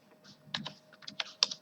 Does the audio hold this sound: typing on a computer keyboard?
yes